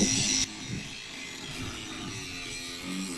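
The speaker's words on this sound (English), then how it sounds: "There's a lot of grinding going on and cutting." Power tools grinding and cutting during boat work: a loud, brief harsh burst at the start, then a steady high buzzing whine that carries on at moderate volume nearby.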